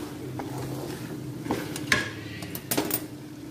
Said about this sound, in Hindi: इसको हम अच्छे से भून लेंगे।